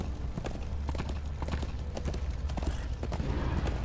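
A horse's hooves clip-clop in a fast, steady gallop rhythm in the video game Darksiders 2, loud and continuous over a low rumbling game soundscape.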